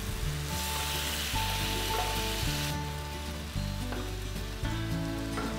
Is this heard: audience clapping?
no